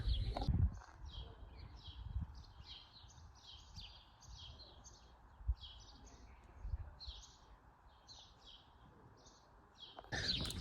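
Small birds chirp repeatedly in quick, high bursts against a faint, quiet outdoor background in a desert setting in Egypt, with occasional soft rustles.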